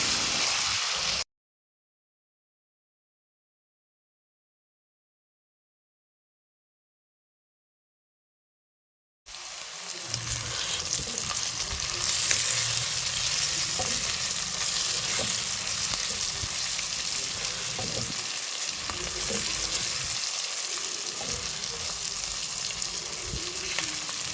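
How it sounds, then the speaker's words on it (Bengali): Onion and tomato frying with salt in a pan while being stirred, a steady loud sizzle broken by occasional stirring scrapes; a stretch of dead silence comes near the start. "লবণ দিয়ে খুবই ভালোভাবে নেড়ে ছেড়ে তারপর আরও একটু সময় ভেজে দিব"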